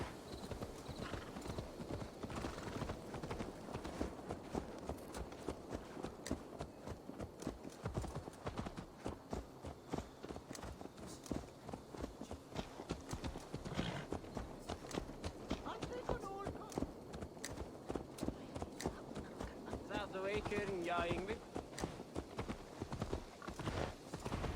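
Horse hooves clip-clop steadily in Assassin's Creed Valhalla, a continuous rhythmic trot under game dialogue and ambient music, with a faint whinny-like sound near the end.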